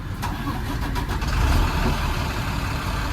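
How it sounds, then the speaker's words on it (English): A tractor-trailer truck engine turns over and settles into a steady, rumbling idle, with a few cranking pulses early on before the low, continuous engine drone fills the rest. "I'll safely start the vehicle."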